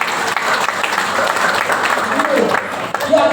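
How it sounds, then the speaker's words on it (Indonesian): Congregation applauding during a church sermon, a steady broad wash of clapping that stays loud and even throughout, with a voice speaking faintly through it. "Tepuk tangan saja tidak apa-apa."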